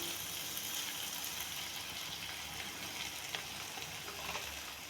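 Ginger garlic paste frying in oil with cumin seeds, a continuous bright hissing sizzle with faint crackles, steady and fairly quiet, with no voices.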